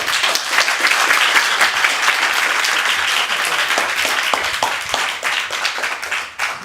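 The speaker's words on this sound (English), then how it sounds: "Give them a round of applause." A city council meeting audience gives a sustained round of applause, dense and steady clapping filling the room at close range from start to finish.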